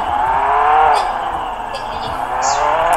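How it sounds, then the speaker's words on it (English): Steady, loud engine drone of a car driven in the Roblox video game, holding a sustained hum throughout with small shifts in pitch and no pauses. "I'm in a great ugly looking car"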